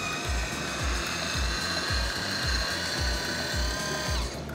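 A Secura electric wine opener drawing a cork, a steady close motor whir with rapid rhythmic pulsing that runs for several seconds and then stops.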